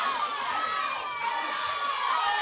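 A wrestling arena crowd shouts and jeers at Dundee during an NWA World Championship Wrestling match, a loud, continuous wash of many voices with excited cheering throughout.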